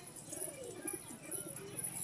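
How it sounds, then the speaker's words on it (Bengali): Many-coloured fancy pigeons feeding outdoors on the ground coo softly and faintly, their low murmuring calls repeating under light background noise. "খুব কিউট পায়রাগুলো দেখতে, চরম কিউট পায়রা"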